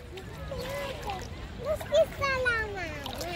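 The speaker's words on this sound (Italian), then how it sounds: "Non si schizza la mamma" At the seaside, a child splashes water, a short splatter standing out amid shallow sea wash while a child and an adult talk over it.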